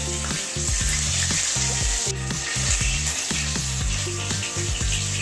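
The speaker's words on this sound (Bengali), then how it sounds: "প্যানে তেল গরম করে নিয়েছি। এরপরে মাছগুলো ভেজে নেব।" Fish sizzles steadily in hot oil in a pan, a loud continuous crackle with repeated scraping and stirring knocks from a utensil throughout.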